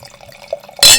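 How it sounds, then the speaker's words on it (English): 2020 Liberty Lake Cellars Malbec red wine poured into a glass, a short close, loud splashing gush of liquid that starts abruptly at the very end after a quiet lead-in. "Shelley, I'm going to pour this right in there."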